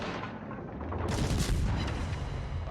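Naval gunfire in a warship combat video game, a continuous loud rumble of cannon fire and booming blasts that swells midway, with no voices.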